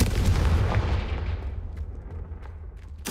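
A heavy booming blast from the Confringo fire spell in Hogwarts Legacy rumbles loudly and slowly fades, followed near the end by a sharp burst of another impact.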